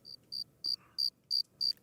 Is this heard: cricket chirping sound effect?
yes